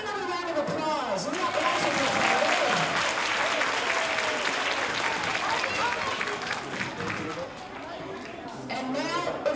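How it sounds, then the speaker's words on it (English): Sustained applause from a school audience at a Hispanic Heritage celebration, a dense wash of clapping that stays loud through the whole stretch with crowd chatter mixed in. "how about another round of applause?"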